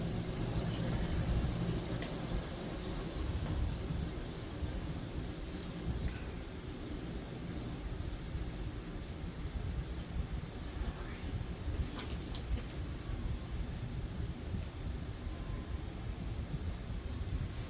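A Hunter C-18 "The Original" adjustable ceiling fan winds down with a steady, low whooshing rumble that continues evenly throughout, with no voices over it.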